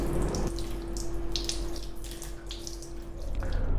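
An electric shaver rinsed under a running tap, with water pouring steadily close by and an electric hum running through it, broken by splashing as the shaver moves under the stream.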